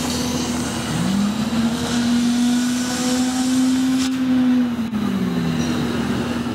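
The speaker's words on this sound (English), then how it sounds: "he just figured out I'll use the vacuum attachment, picks it up, puts it in the box" A vacuum attachment hums steadily as it sucks up scraps from a machine, a loud continuous motor drone with a slight rise and fall in pitch and no talking.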